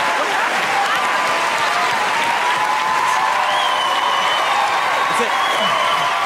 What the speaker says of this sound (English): Please give Howie Mandel a huge round of applause.